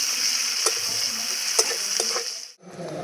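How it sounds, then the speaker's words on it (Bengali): A chopped onion sizzles in hot oil in a pan, a steady close crackling hiss with a few sharp pops, then a brief dip near the end before the frying resumes more quietly. "তেলটা গরম হয়ে গেছে তেলের মধ্যে এবার আমি পেঁয়াজ দিয়ে দেবো"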